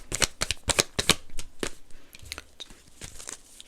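Tarot cards are shuffled during a card reading, a quick series of crisp riffling bursts followed by softer scattered rustles and flicks, close and clear with no talk.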